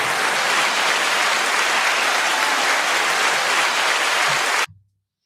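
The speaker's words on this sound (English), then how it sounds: "And the crowd goes wild." A large crowd claps and cheers in a dense, steady roar of applause that fills the clip and then cuts off abruptly near the end.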